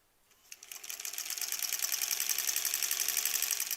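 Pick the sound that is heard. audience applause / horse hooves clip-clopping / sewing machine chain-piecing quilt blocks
sewing machine chain-piecing quilt blocks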